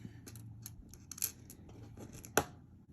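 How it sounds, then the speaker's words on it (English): A single close, crisp snip as the sharp end of a beading wire is trimmed during necklace making, preceded by faint soft handling clicks. "barely take that little end right there and just trim that"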